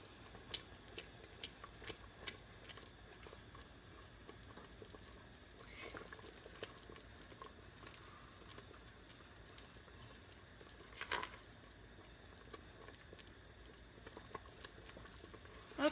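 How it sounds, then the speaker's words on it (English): Chocolate cherry preserves bubble at a near-full boil in a pot. The sound is a low, continuous simmer with faint pops and ticks, and occasional louder bursts. "a full boil is when you can't stir it down"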